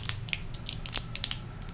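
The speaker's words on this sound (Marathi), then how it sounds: "जिरं मोहरी चांगली तडतडू द्यायची" Cumin and mustard seeds crackle in hot oil for a homemade green moong masala dry dish, giving sharp, irregular pops over a low background hiss, close and moderately loud.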